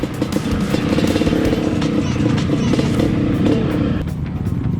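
Motorcycle engine on a rough, rocky, slippery trail in the rain, a steady loud close drone with uneven throttle for several seconds and rumbling wheel noise underneath.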